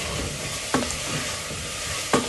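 Afritada, a Filipino tomato-based stew heavy on vegetables, being stirred in a frying pan, with a steady low sizzle throughout and two sharp scraping clacks of the utensil against the pan.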